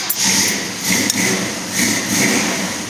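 A 1966 Ford GTA clone with a 302 crate small-block V8 runs right after an ice-cold start, a loud steady rumble that swells and dips in a few revs close by.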